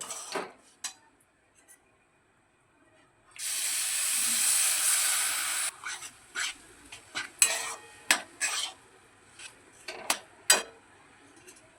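Milk pours onto semolina fried in ghee, giving a loud bubbling hiss for about two seconds, followed by a series of spoon scrapes and clinks against the pan as it is stirred.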